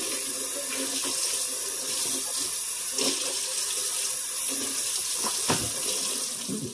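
Steady tap water runs into a stainless steel sink during rinsing, a continuous close hiss with a few soft knocks and splashes, no voices.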